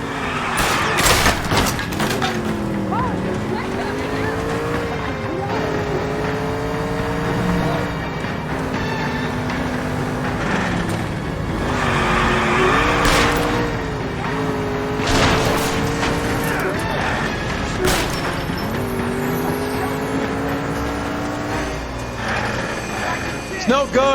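A car chase in the video game L.A. Noire, with an engine revving through rising and falling gear changes, intermittent bangs and tire noise. Voices talk over it throughout.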